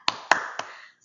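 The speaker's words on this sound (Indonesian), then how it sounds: "Mana tepuk semangatnya?" Three sharp, evenly spaced claps from children doing a tepuk semangat cheer in an Indonesian-language lesson, each a crisp percussive burst with a short decay, then silence.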